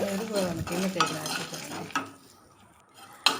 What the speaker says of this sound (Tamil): இப்போ இது கூடவே ஒரு அஞ்சு பல் பூண்டு சேர்த்துக்கோங்க சேர்த்துட்டு இதையுமே நல்லா வதக்கி எடுத்துக்கோங்க